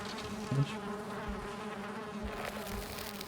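Bees swarm around a queen bee nest in the video game Valheim, giving a steady, soft, continuous buzzing drone with no break.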